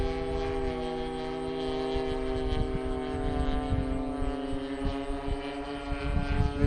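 A Great Planes Super Stearman model airplane engine drones with a steady, buzzy, harmonic-rich tone as the throttle is eased back, heard at a moderate distance over some low rumble.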